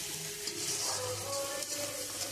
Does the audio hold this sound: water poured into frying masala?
yes